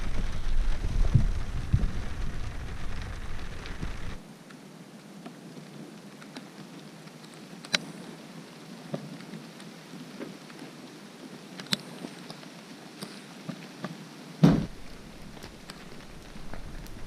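Steady rain patters on and around a pickup truck camp, a continuous hiss with occasional sharper drops and a low rumble of distant thunder, with no one talking.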